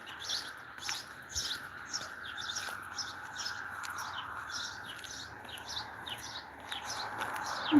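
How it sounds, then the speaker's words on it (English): Birds sing outdoors near a yard with flowers and azaleas, giving a regular series of high chirping phrases over a soft background hum, moderately distant and with no one talking. "Birds."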